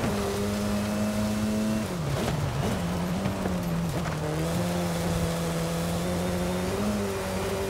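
Engine of a tuned car in Forza Horizon 5 drones steadily at mid revs, dipping and recovering a few times as gears shift and the car slows, then picks up again near the end.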